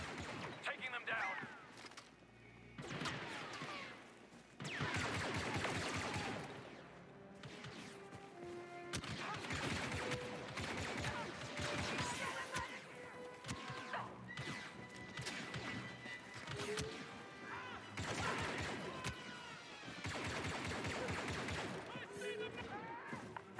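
Repeated blaster gunfire and crashes through a firefight in the video game Star Wars Battlefront 2, dense and continuous over a long stretch, mixed with game voices and dramatic music.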